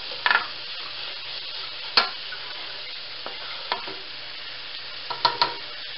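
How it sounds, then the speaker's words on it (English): Chopped onions stirring and frying in a pan for chicken tikka masala, a steady close sizzle punctuated by several sharp clinks of a utensil against the pan. "we're going to, stir the onions and cook them until they're golden brown."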